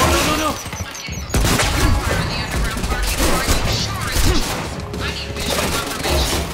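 Gunfire from a trooper in the video game Quantum Break, loud sharp bursts and crashes over a busy, dense game soundscape with a voice talking.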